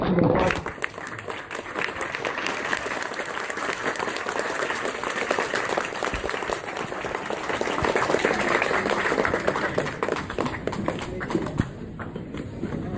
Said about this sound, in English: Let us give him a standing ovation and give him an applause.